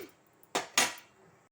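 A metal spoon clinks twice in quick succession against a pan as dry red chillies are stirred and roasted for gongura pickle; the knocks are quiet and close, with near silence around them.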